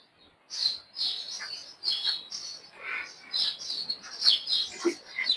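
Small birds chirp and tweet outdoors at a museum in Dubai, a busy run of bright, quick calls overlapping in short bursts, fairly close with a quiet background.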